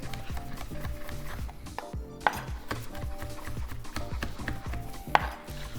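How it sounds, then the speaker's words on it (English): Kitchen knife finely chopping garlic, jalapeños and onions on a board for carne en su jugo, a steady run of close, quick cutting taps with a couple of sharper knocks. "I'm gonna chop these up really fine."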